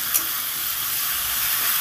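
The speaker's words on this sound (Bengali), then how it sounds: "দেখুন মশলাটা দিয়ে তেল ছেড়ে দিয়েছে, মশলাটা আমার প্রায় ভাজা কমপ্লিট হয়ে গেছে।" Spice paste for a taro and prawn curry fries in oil, a steady close hiss and sizzle with a faint tick near the start.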